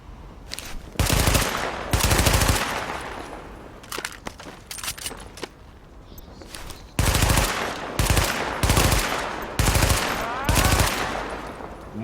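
Gunfire in the video game The Division, with loud bursts of automatic fire in several separate volleys between quieter stretches of game ambience.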